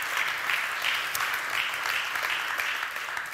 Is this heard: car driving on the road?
no